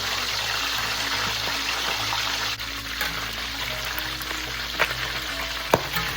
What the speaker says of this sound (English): we're gonna fry them